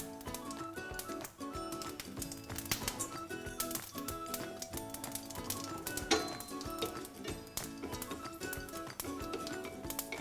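Mustard seeds spluttering in hot oil alongside fenugreek seeds and whole red chillies for tomato chutney, a dense run of sharp close pops and crackles over a continuous sizzle, with no voices.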